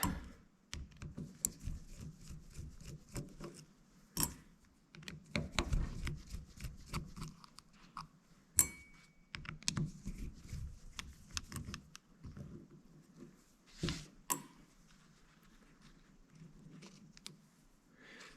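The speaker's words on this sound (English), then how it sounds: "And we'll take these 4 screws out" Screws come out of a Husqvarna 455 Rancher chainsaw carburetor, four in turn, with scattered close clicks, taps and light metallic scrapes from the screwdriver and parts handling, and no voices.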